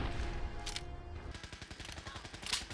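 Rapid bursts of gunfire in the Fallout 4 video game, modded combat near Sanctuary, with a dense run of sharp repeated shots in the second half over a loud, noisy background.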